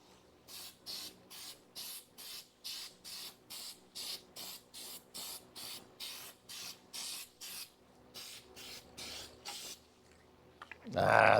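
Undercoating hisses from a spray can onto a Dodge Charger crew cab under restoration, in a steady series of short bursts of even rhythm, close and fairly loud, ending in a louder clatter.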